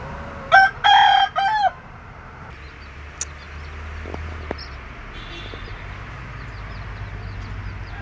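A rooster crows loudly and close by in one long, clear call, then the scene settles into quiet outdoor ambience with a few faint clucks and small knocks.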